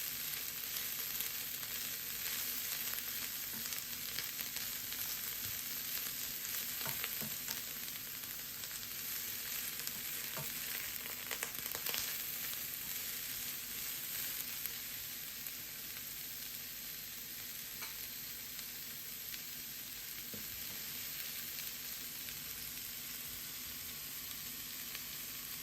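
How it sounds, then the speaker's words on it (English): Carrot strips stir-fry in a frying pan with a steady, even sizzle that holds at a constant level throughout, with no talking over it. "make sure that both of them are well mixed together so that they cook evenly just by stir frying around the frying pan."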